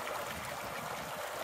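Cache Creek in Yellowstone, at about 8,000 feet, rushes and gurgles close by, a steady full wash of flowing water with no voices.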